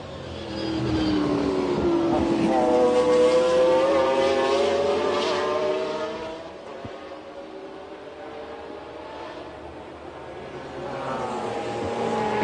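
A Ferrari 333 SP race car at the 1995 24 Hours of Le Mans screams past with a high, rising engine note, then fades into a distant drone before another car swells in.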